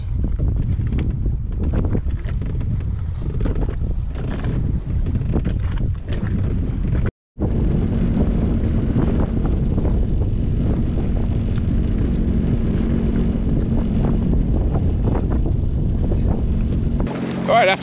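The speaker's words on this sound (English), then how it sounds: "Give you an idea how rough it is. That wind's pushing me right across." Strong wind buffets the microphone in rough weather on the water, a loud continuous rumble with a brief dropout midway and a faint steady engine hum underneath.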